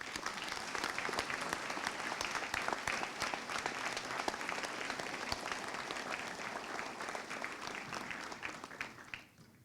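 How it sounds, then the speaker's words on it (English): A high school graduation audience breaks into sustained applause, a dense crowd clapping that holds steady for several seconds before fading out at the end. "Let's give them a round of applause"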